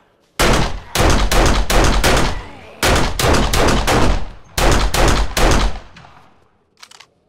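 Rapid bursts of loud pistol gunshots in the video game 7 Days to Die, fired in three quick clusters of several shots each with brief pauses between, then a faint clatter at the end.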